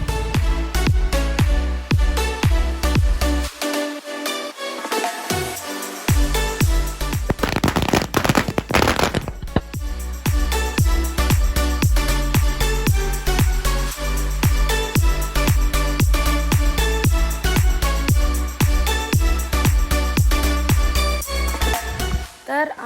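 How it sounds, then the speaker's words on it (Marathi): Diwali firecrackers go off in a dense, continuous string of loud cracking bangs lasting over twenty seconds, with a short, brighter crackling stretch partway through. "तर आमचे फटाके वाजून झालेले आहेत, तुम्ही बघितले असतील."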